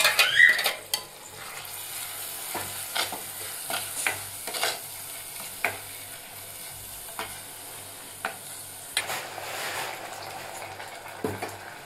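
Tomato puree stirred into frying onions for chicken sukka: a spoon scrapes and clinks against the pan in irregular strokes over a low, steady sizzle, with no talking.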